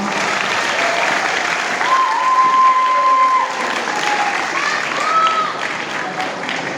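Audience applause at a youth Bible-verse recitation competition: sustained, dense clapping from a crowd that swells and holds for several seconds, with faint whistle-like tones drifting above it.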